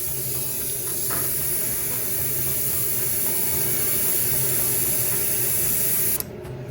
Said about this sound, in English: And then I came back and airbrush color.